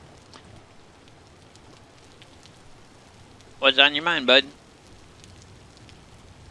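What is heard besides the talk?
rain falling in the video game Vintage Story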